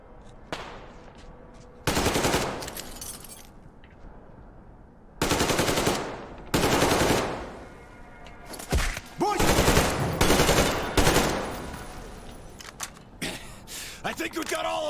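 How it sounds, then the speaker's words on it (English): Sharp bursts of automatic weapon fire from a gunfight in the shooter Metro Exodus come in loud separate volleys, with shouted voices in between and quieter stretches before the shooting picks up again. "Shoot the fucker, boys! You're welcome to try it! I have enough ammo for all of you!"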